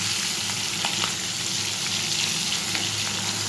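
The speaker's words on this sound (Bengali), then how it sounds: "মাছগুলো ভেজে নিয়ে আমি চলে আসছি।" Hilsa fish frying in a pan, a dense, steady close sizzle of hot oil with faint stirring clicks, continuous and without voices.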